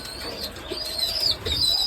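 Pigeons in a loft flutter their wings in short bursts over a steady background hum, with faint cooing and chirps mixed in at close range.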